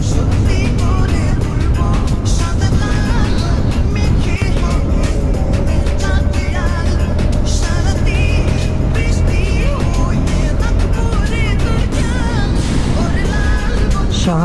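A motorbike riding along the Dhaka–Sylhet highway gives a loud, steady roar of engine and rushing wind that runs unbroken for the whole stretch, with a faint tone holding steady midway.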